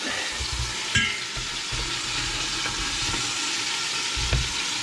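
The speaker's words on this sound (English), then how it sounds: "we'll let that sear for about 3 or 4 minutes" Oxtails sear in a hot pan with a steady, broadband sizzle, punctuated by a couple of sharper spits and clatters as pieces shift.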